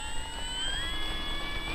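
An RC warbird model airplane's engine holds a faint, steady high-pitched whine at full throttle during takeoff, with no talking over it.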